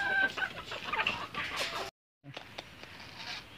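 Backyard hens cluck and chatter in their coop at close range, a busy overlapping flock sound that breaks off briefly for a silent gap before softer clucking resumes.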